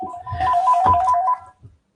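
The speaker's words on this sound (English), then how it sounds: "Sorry, my phone is going." A mobile phone ringtone goes off during a classroom-style talk: a short melodic electronic ring of about a second and a half, fairly close and clear, then it cuts to silence.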